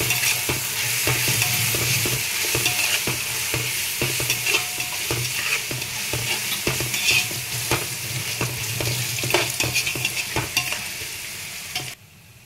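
A spoon stirs egg dum biryani masala with turmeric in a hot pan, steady scraping and clinking over a continuous sizzle, close and busy for about twelve seconds with no talk, then stopping abruptly.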